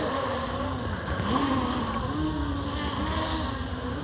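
An MJX Bugs 3 brushless drone flies in the wind, a faint steady whine from its motors that rises and falls in pitch as it fights gusts, heard alone.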